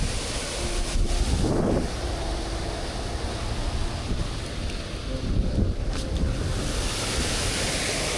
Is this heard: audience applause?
no